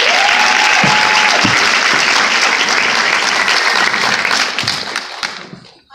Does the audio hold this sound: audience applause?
yes